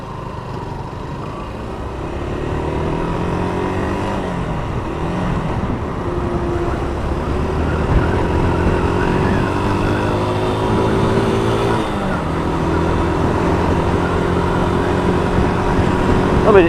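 Yamaha YBR125 Custom motorcycle ridden at speed, around 60 mph, its small single-cylinder engine droning steadily under loud wind rush, with pitch rising and falling through gear changes and throttle.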